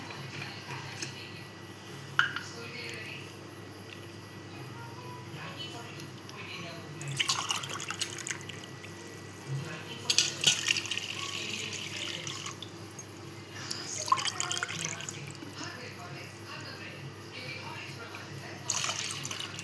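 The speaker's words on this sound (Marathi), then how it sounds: "आता आपण हे टाकूया थंडगार असं पाणी" Cold water pours and drips into a vessel in intermittent splashes, moderately close, with quiet background noise and occasional soft clatter, while coriander sherbet is prepared.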